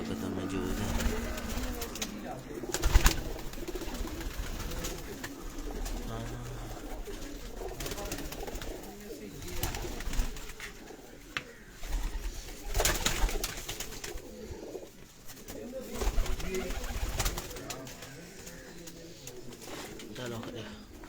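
Pigeons coo softly in a loft in Sialkot, their low, repeated murmurs faint and intermittent beneath people talking nearby.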